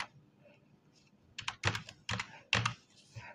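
Typing on a computer keyboard, a burst of sharp close key clicks in an uneven quick rhythm after a quiet start, with no talking.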